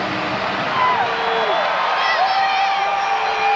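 A record college football stadium crowd of more than 96,000 at a Penn State game, roaring and cheering as one sustained wash of noise, with a commentator talking over it.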